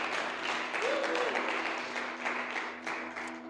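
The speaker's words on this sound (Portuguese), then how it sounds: "Alguém pode aplaudir a Jesus nessa noite?" A church congregation at an evening service applauds steadily, a dense wash of clapping filling the room for a few seconds with a faint tone sounding beneath it.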